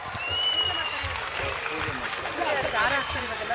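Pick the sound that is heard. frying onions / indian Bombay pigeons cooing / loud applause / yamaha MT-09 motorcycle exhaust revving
loud applause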